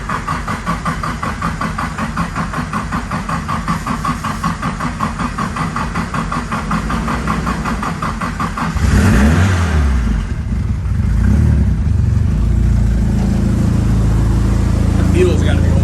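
A Datsun 510 with a swapped SR20 engine, unstarted for four years, chugs on the starter before catching and settling into a rough idle, then rising in revs. Voices talk over it at times.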